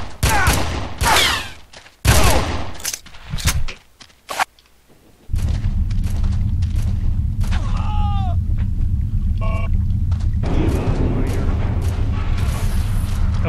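Rapid volleys of gunfire crack out in the Red Faction mines, dense bursts of shots in the opening seconds before a steady loud drone with chirping electronic tones takes over.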